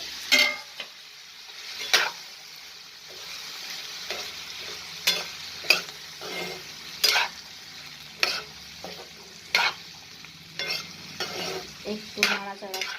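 Potatoes stirred in a frying pan, a spatula scraping through them in repeated strokes over a steady sizzle of hot oil, with no voices.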